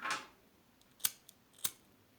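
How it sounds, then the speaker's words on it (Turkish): Scissors snip crochet thread while working a row of crochet lace trim, a soft swish followed by two crisp, close metallic cuts in a quiet room. "2 tane zincir çekip ipimi kesip koparıyorum arkadaşlar"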